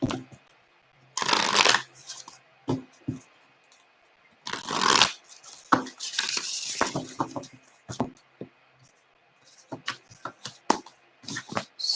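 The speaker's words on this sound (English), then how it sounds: "I just need to shuffle this one." Oracle cards are shuffled in quick, papery bursts with short pauses between, close by and fairly quiet, with no talking.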